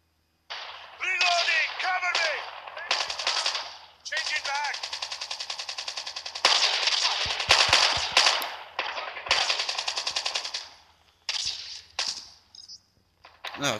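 Rapid bursts of automatic gunfire from a new weapon in a Call of Duty video game crackle loudly in repeated volleys with brief pauses between them, mixed with game effects and occasional voices.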